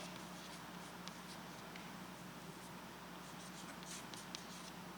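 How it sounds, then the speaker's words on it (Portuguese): Marker or chalk drawing on a classroom board during a physics lesson on heat sources, a steady scratchy writing texture with faint strokes, no talking. "Deixa eu desenhar aqui em cima."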